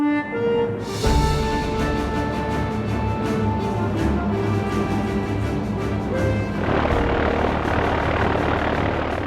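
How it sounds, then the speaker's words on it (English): A de Havilland Mosquito with twin Rolls-Royce Merlin engines drones loudly overhead, a steady throbbing propeller roar with pulsing beats that thickens into a broader rushing noise as it passes close. "Powered by its twin Rolls-Royce Merlin engines, the Mosquito had a top speed of 300 miles per hour"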